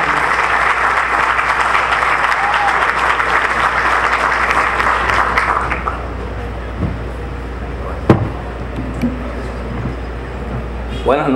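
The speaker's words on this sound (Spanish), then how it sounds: "vamos a recibir al señor Manuel Matos Guerra con un fuerte aplauso" A loud audience applauds steadily for about six seconds as a speaker is welcomed at an evening event in San Francisco de Macorís, then the clapping drops away to room noise with a few scattered knocks.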